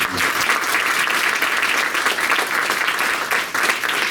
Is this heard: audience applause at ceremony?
yes